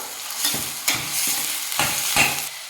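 Green peas and chopped tomato sautéed in a pan for a palak and peas gravy, with a steady sizzle broken by several scraping stir strokes of a spoon against the pan, close and moderately loud, with no voices.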